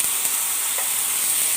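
Mustard seeds crackling in hot oil on a home stove, a loud, continuous close-up sizzle with no voices.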